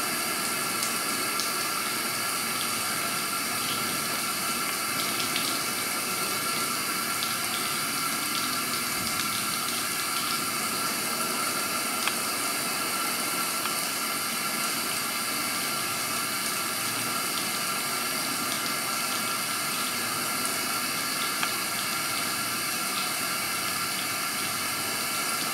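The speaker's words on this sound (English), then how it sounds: "Turn your water back on and then run fingertips." Water runs steadily from a tap into a scrub sink during surgical hand scrubbing, a constant hissing splash that continues unchanged throughout without any voices.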